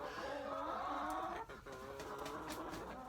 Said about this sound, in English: Okay, I'm trying to get the ducks out.